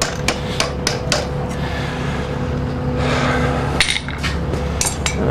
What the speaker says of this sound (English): the ball peen hammer from Bob Rupert that I've pilfered to knock over these petals